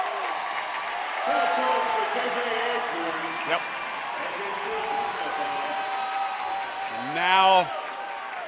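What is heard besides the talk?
basketball crowd cheering for the team in red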